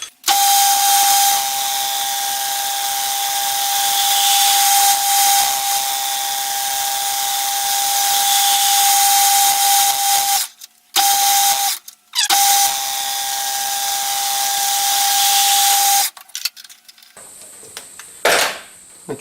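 A lathe trims the end of a valve chest cover for a Stuart Turner No. 8 mill engine. A steady, loud metal-cutting whine with a sustained tone runs for long stretches, broken by short pauses and ending in scattered knocks.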